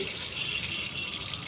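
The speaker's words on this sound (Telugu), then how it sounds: "ట్యాప్ స్టాప్ చేయి." Water running from a tap in a steady continuous gush, close and moderately loud, hissing without pause or any talk.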